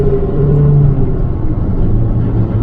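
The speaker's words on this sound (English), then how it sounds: "The engine revs properly the way it should, but the exhaust don't sound very good." A 1989 Toyota Celica GTS ST162 driving, its engine and exhaust giving a steady, loud low rumble with a droning hum from inside the car, no speech over it.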